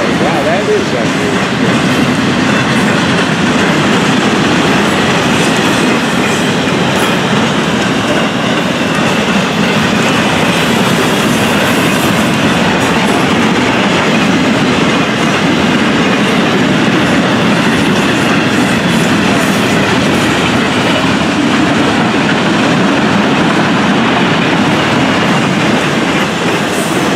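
An FEC freight train hauling empty auto rack cars passes close by. Its loud, continuous rumble and rolling clatter of wheels on rail stays steady throughout.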